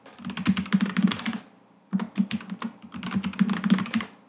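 Rapid keystrokes on a computer keyboard while entering a root password during a VMware vCenter Server Appliance setup, two close bursts of clicky typing separated by a short pause.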